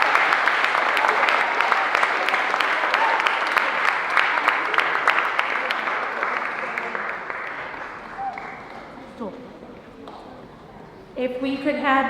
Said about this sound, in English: It is with great pride and joy to ask you one more time to give a round of applause to our sixth graders.